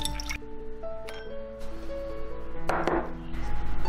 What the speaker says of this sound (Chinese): 然后再把枸杞清洗一下。